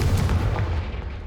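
In the video game Hogwarts Legacy, the Confringo fire spell lands as a single heavy, booming blast that decays over about a second, loud and close with no voices.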